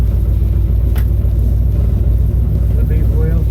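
A 1968 Ford Mustang with a 289 engine on a test drive, its steady low engine rumble and road noise filling the cabin at close range, with a brief voice near the end.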